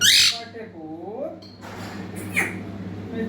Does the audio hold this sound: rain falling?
no